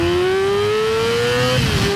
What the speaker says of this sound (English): This 599cc engine is a screamer.